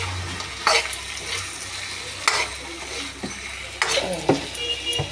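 Momos frying in a pan on a gas stove, a steady sizzle underneath with intermittent stirring and scraping clatters, close and moderately loud.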